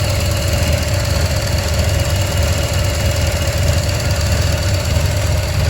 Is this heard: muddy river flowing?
no